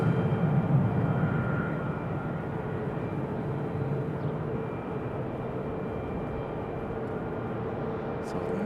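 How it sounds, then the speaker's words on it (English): United Airlines Boeing 737 MAX 8 arriving at Raleigh-Durham airport, a steady broadband jet roar that swells slightly at the start and then holds level, distant and continuous. "it's United 1954 coming in from SFO on a 737"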